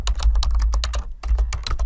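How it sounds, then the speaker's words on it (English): Close-up typing on a computer keyboard: a quick, uneven run of crisp key clicks with a short pause midway, loud and alone with no voices. "So now I'm going to start typing the rest of this."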